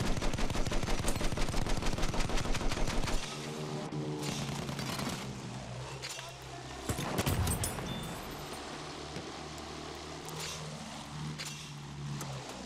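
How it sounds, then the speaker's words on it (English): Ground support attack plane firing its guns during an attack run in Battlefield 1, a rapid loud burst of machine-gun fire for about three seconds, followed by engine drone and scattered distant explosions. "We'll go for another attacking run."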